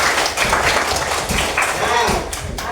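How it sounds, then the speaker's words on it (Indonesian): A classroom of pupils clapping for a classmate, a loose patter of hands heard under a teacher's voice, fairly close and ragged. "Kasih tepuk tangan tuh Abi."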